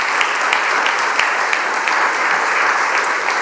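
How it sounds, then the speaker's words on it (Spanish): Church congregation applauding during a Spanish-language worship service, a steady, dense wash of clapping from many hands that holds at an even level throughout, with no voices standing out above it. "Denle un fuerte aplauso al Señor ahora sí."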